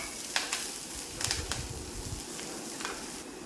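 Green chillies frying in hot oil for a Kerala sardine curry with ground coconut: a steady, close sizzling hiss broken by occasional sharp crackles and pops, with no talking.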